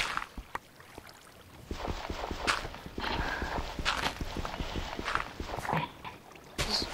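Horse hooves clip-clop in a video game, a run of quick, irregular hoof strikes over a faint ambient bed, with no talk.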